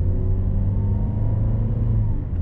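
Inside a 2019 Toyota Yaris 1.5G with a CVT, a steady low drone and road rumble hold constant, with a faint continuous whine riding over the cabin noise and no speech.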